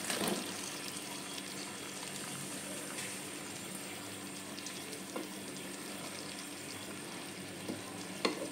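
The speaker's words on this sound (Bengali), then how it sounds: "এবার আমি পেঁয়াজ আর ক্যাপসিকাম যেটা কেটে রেখেছি এটা এর মধ্যে দিয়ে দেব।" Chopped onion and capsicum go into a pan of chili chicken, giving a faint steady sizzle with light scraping and stirring clatter and a few soft clicks.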